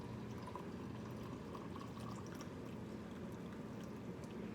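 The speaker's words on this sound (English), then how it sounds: "you want to tip this over and just pour it in" Hot chocolate pours from a pot into a mug in one steady, continuous stream, close by and unbroken, with no talking.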